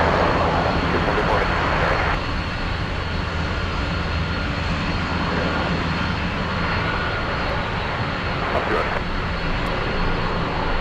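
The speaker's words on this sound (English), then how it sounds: "Kaleta Connie 936 flying in from Chicago, landing in a few seconds. It's a big 747." A large Boeing 747 airliner inbound from Chicago comes in to land at Anchorage airport, a steady broad jet-engine roar heard from a distance, with a brief surge early on and faint traffic noise beneath.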